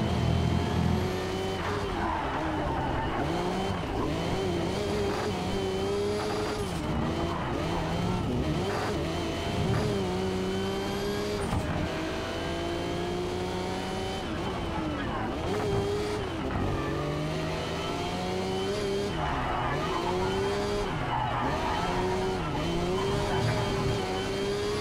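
A Nissan Skyline GT-R R32 Group A race car in Project Cars 3 at Sugo, engine droning loud and close through corners, revs rising and dipping continuously with gear shifts and faint tire noise.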